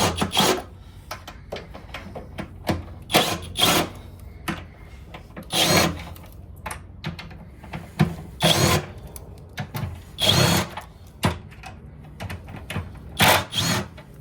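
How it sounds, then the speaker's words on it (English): An impact gun loosening bolts on the drive belt case of a 2024 Polaris RZR Turbo R Sport, loud close bursts of rattling hammering whirs separated by short pauses and clinks of tools. "Impact gun is really good for this task."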